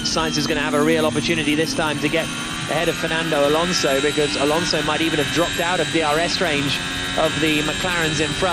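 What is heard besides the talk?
Ferrari Formula 1 car engine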